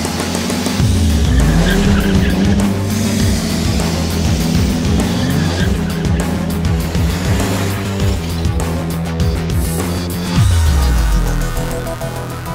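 A VW Amarok with a swapped-in BMW straight-six engine revs hard while tires squeal and skid continuously, the loud whine rising and falling as the wheels spin.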